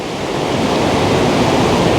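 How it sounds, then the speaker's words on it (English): An artificial standing wave roars where a city river or canal rushes beneath a bridge in Munich, a dense, steady, close rush of churning water without pause. "The canal or river coming underneath this bridge here is creating an artificial wave."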